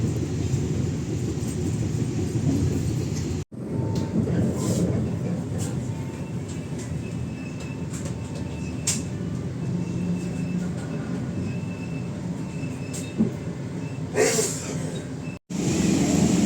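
Inside an economy passenger car of the KA Majapahit train, a steady rumbling roll of wheels on track fills the whole stretch, with faint clacks, a brief squeal and two momentary dropouts.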